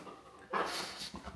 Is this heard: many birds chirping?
no